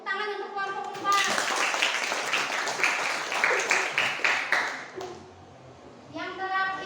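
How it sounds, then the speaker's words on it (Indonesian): A classroom of children breaks into steady applause for a student group, clapping continuously for several seconds before fading, with a teacher's voice speaking before and after. "Tepuk tangan untuk kelompok 4."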